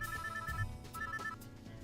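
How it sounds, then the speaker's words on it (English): A phone rings in the video game Hold Me, sounding two repeated electronic ring bursts over a quiet background hum. Nobody speaks. "As I start packing for work, my phone begins to ring."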